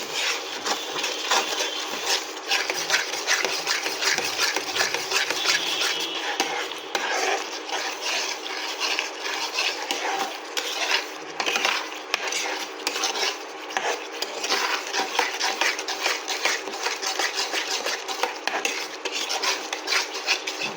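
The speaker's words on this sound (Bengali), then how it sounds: "এটা কিন্তু অনবরত নাড়বেন, কারণ কাজু বাদাম দেওয়া রয়েছে" Rui fish korma with cashews being stirred continuously in a pan, a steady close scraping and rubbing of a spoon against the metal with a constant sizzle underneath, no voices.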